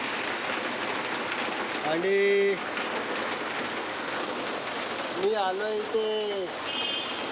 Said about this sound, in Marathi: जोरात पाऊस पडतो आहे